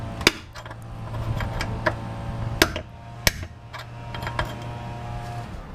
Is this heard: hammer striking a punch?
yes